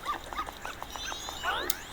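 A dog in The Legend of Zelda: Majora's Mask 3D gives a quick run of short yips and whimpering barks, about six in a row, followed by a brighter game sound effect sweep; no talking.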